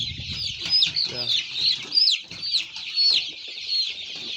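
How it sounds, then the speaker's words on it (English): Three-week-old SASSO chickens cluck and peep on a livestock farm, a dense, continuous flock chorus of high chirps close by with lower clucks underneath, fairly loud throughout. "They're just only 3 weeks old. These are SASSO birds."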